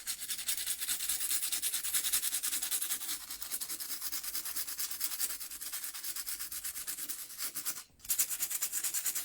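Steady, close abrasive scraping of a sanding piece rubbing back and forth over the upper paint layer of a décor piece, continuous for several seconds with one brief pause near the end.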